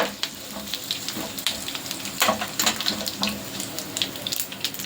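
Cumin seeds and two dry red chillies crackling in hot oil with mustard seeds in a pan, a steady close sizzle broken by scattered sharp pops, with no voices.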